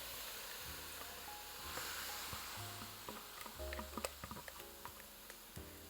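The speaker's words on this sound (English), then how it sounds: "we're going to add this spinach mixture to our pan" Spinach mixture cooking in a hot pan for oil-free vegan spinach saag, with a quiet steady sizzle broken by a few faint stirring clicks and taps near the end.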